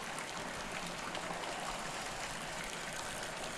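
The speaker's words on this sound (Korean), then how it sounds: "앞산에선 약수가 졸졸졸 흘러내려옵니다" Spring water trickles steadily down a mountainside in rural Korea: a soft, continuous, even babble at low volume, with no other sounds on top.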